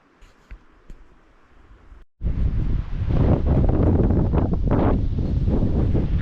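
Strong wind buffets the microphone during an axis deer hunt in Hawaii. Quiet ambience gives way to a sudden, loud, continuous roar that holds to the end.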